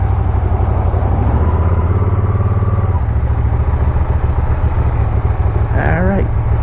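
A Can-Am Spyder three-wheeled motorcycle on a road test ride, its engine droning steadily and loud up close with a brief shift in pitch partway through, wind and road noise underneath and a faint voice near the end.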